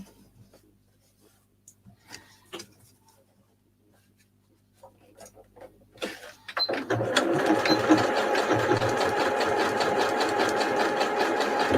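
A sewing machine stitches fabric scraps into a scrap roll, running in a steady fast whir after several seconds of quiet handling clicks and faint rustling.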